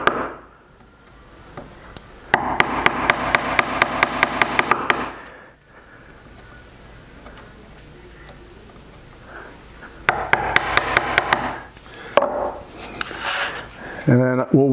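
A sharp chisel struck repeatedly with a mallet while hand cutting a wood dovetail, with two bursts of rapid, evenly spaced knocks, close and loud, separated by quieter handling.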